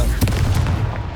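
A booming magical blast from the Confringo spell in Hogwarts Legacy lands with a heavy, close thump and crackling burst, loud and brief, fading quickly.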